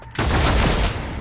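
A burst of gunfire from the video game Warhammer 40000 Deathwatch: a loud, dense volley that starts abruptly after a brief quiet moment and sustains as a continuous roar for about a second, with no talk over it.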